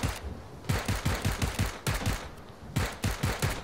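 Rapid bursts of automatic gunfire in PUBG (PlayerUnknown's Battlegrounds), repeated volleys of sharp shots at a moderate distance, with short pauses between strings of fire and no talking.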